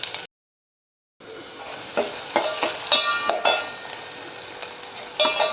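Onion sautéing in a pan for a Malvani-style dried shark dish gives a soft continuous sizzle, broken by irregular metallic clinks and scrapes of stirring after a brief silent gap at the start.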